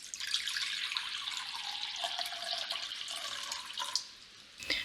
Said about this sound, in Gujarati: પહેલાં એક બાઉલમાં પાણી ભરી લઈશું.